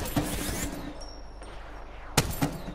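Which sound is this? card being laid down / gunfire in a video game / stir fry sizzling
gunfire in a video game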